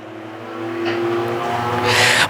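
Race cars roaring around the oval at Tomah Sparta Speedway during a heat race, a steady loud engine drone with a car sweeping closer and brighter toward the end.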